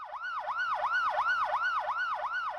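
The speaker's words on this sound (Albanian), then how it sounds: "Gjatë improvizimit të aksidenteve, tri autoambulancat lëshuan sirenat e tyre për një minut për nder të kësaj dite." Ambulance sirens wail in a steady, rapid rising-and-falling cycle during an accident-response drill in Kosovo, loud and continuous with no voices.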